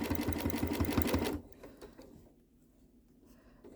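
A sewing machine stitches in the ditch with a quick, even, rhythmic pulse that stops after about a second and a half. Quiet handling noise follows.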